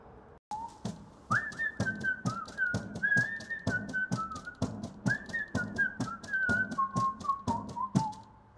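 A person whistles a wavering tune while tapping a drum in a steady beat, the two heard together and close up with no talk.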